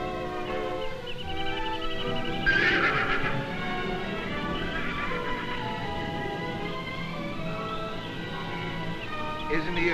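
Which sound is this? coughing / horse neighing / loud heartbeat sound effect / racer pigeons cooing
horse neighing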